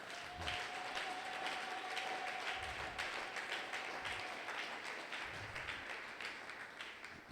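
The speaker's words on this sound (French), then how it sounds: "Veuillez vous manifester en acclamant encore très fort pour tous" A church congregation applauds and cheers at a Sunday praise and thanksgiving service, a steady dense wash of clapping and crowd noise lasting throughout with a sustained tone briefly audible early on.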